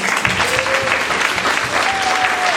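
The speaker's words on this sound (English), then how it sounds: "we should do a big round of applause" Sustained applause from an audience at a community forum event, dense steady clapping throughout with a voice briefly audible over it.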